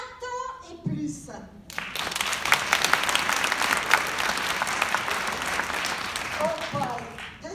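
Audience at a French stand-up comedy show bursts into loud, sustained applause after a moment of quiet, the clapping swelling and holding steady before tapering as a voice returns near the end.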